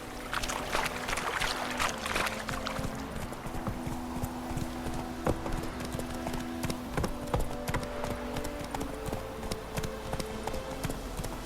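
Roach, a horse in the Witcher 3 video game, trots with steady, close clip-clop hoofbeats throughout, over a low ambient hum with faint background sounds.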